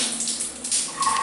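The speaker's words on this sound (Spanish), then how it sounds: "ducha con su respectiva lluvia" A working shower sprays water with a steady hissing rush, close and continuous, with a slight splashing shift near the end.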